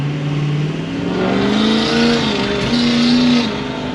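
A 6.0L Powerstroke diesel truck accelerates with a loud, close engine roar whose pitch climbs smoothly, dips briefly, then rises again, steady and sustained with no speech over it.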